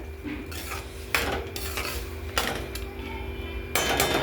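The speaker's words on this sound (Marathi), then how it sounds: "आता आपण याच्यामध्ये ही जी भिजवलेली डाळ होती ती घालून घेऊ. छान मिक्स करून घेऊ" Soaked lentils are stirred into ridge gourd chutney in a cooking pan, giving close scraping and clinking of a spoon against metal in several short bursts over a faint background hum.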